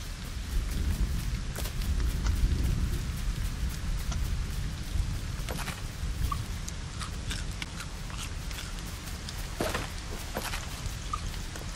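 Steady rain falls in the video game Fortnite LEGO, a dense, even hiss across the whole span with scattered droplet ticks, heard alone with no talk.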